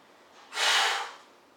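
A single deep inhalation drawn in before lowering into a planche push-up, a rising airy breath lasting about half a second, close and fairly loud against a quiet room.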